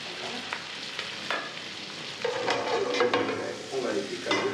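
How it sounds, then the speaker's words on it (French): Previously cooked rice frying in a little clarified butter in a small saucepan, a steady close sizzle with crackles and scraping stirs throughout, growing a bit louder partway through. "sur notre petit beurre clarifié, on va mettre notre riz préalablement cuit"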